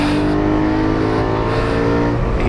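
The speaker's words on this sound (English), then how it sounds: "Easy upshift. There we go." BMW E92 M3 race car engine on track, a loud sustained close-up roar with a smooth upshift, steady and dense throughout with no talk.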